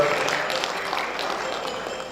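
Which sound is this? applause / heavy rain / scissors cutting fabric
applause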